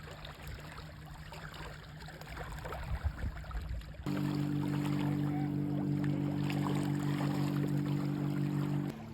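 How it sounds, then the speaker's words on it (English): A motorboat passes unseen on a foggy, very still Lake Superior near Split Rock; a steady low engine hum rises in the second half and holds, fairly faint and distant-sounding, with no talk. "I just heard a boat go by"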